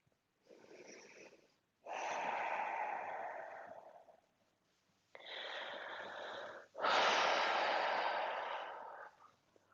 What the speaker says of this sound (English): Take a few deep breaths, letting that sink in.